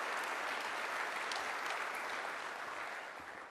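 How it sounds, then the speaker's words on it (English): An audience at the opening of a new airport terminal at LaGuardia claps in sustained, dense applause that holds steady and then begins to fade. "let's give Rick a round of applause as well"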